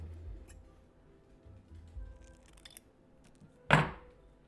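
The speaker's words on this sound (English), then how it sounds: "we're going to cut that excess off." Scissors snip off excess material while crafting a glam decor vase, with soft handling noises followed by one sharp, close cut near the end.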